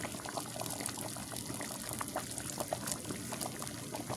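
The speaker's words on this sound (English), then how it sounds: "Alright, now I'm going to let that simmer." A pot of fideo with ground beef and potatoes bubbles and simmers steadily, a constant soft gurgling with small pops throughout, close up and without voices.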